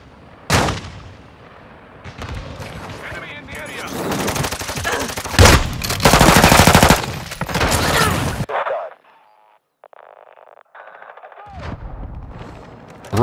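Rapid automatic gunfire and heavy bursts in a Call of Duty: Modern Warfare II match, loud dense volleys with a lull near the end before shooting resumes, with voices mixed in.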